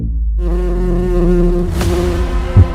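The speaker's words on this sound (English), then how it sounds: "I can hear the buzzing in the distance." Steady insect buzzing with a droning hum, loud and close throughout, without pause or voices.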